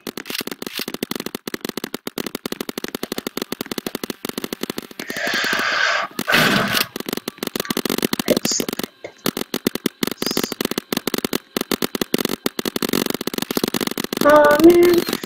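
Rapid paintball gun shots in a Roblox paintball battle crack out in dense, irregular bursts throughout, with brief pauses and a louder flurry near the end.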